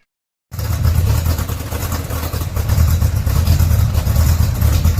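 A Chevrolet Corvette C3, running after an engine swap, idles with a steady low rumble close by; the sound starts abruptly and grows slightly louder partway through, with no talk over it.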